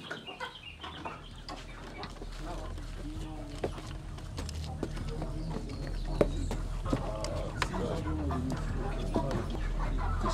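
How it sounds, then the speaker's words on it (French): Chickens cluck and chatter in a poultry house where mature birds are kept upstairs, a busy overlapping flock sound with a low steady hum beneath and people talking over it. "Les poulets matures sont logés à l'étage."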